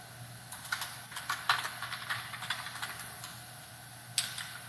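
Irregular computer keyboard typing as a search is entered for Oracle JDeveloper, moderately close key clicks over a low steady hum, with one sharper tap near the end and no voices.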